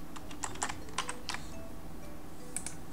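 Light, close keystrokes on a computer keyboard, a handful of soft irregular clicks over a low steady hum, quiet and without speech.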